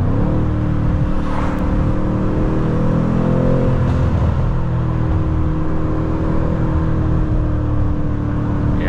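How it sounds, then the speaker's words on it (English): Big Mercedes-AMG V8 of about 500 horsepower, stock, heard from inside the car dropping gears, a loud, continuous throaty engine drone with rising and falling revs. "Give her one more gear down."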